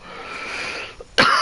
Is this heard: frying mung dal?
no